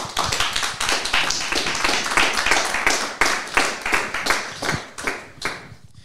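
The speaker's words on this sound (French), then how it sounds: "je pense qu'on peut l'applaudir" A small audience applauds at the close of a French conference broadcast on secularism. Distinct, fairly close hand claps come in a brisk, slightly irregular rhythm for about six seconds, fading toward the end, with no speech.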